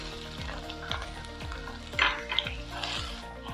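Garlic and ginger sizzle in hot coconut oil while being stirred for a fish pickle. A steady crackling fry is cut by rhythmic scrapes of a spoon against the pan, close and clear with no voices.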